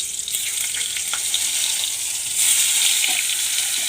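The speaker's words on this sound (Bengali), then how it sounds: "আলুগুলো ছেড়ে দিই, আলুগুলো একটু ভেজে নিই।" Potatoes frying in a pan for an egg curry, a steady dense sizzle of hot oil that continues throughout, with a few faint clicks of stirring and no voices.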